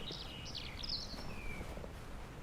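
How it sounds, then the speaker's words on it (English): Birdsong in the deep Norwegian forest of Microsoft Flight Simulator 2024: a few bright chirps and whistled phrases over a steady low ambient hum, fairly faint and with no talking. "the birds are singing"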